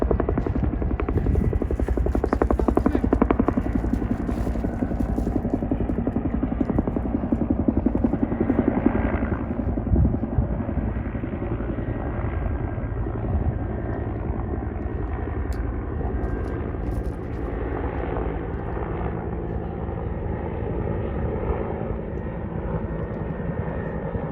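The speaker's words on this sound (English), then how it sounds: "Fire helicopters coming in for the day." Firefighting helicopters drone loudly and continuously overhead, a steady rotor thrum and engine roar that slowly swells and fades over the whole stretch.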